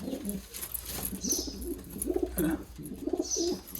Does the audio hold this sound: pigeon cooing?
yes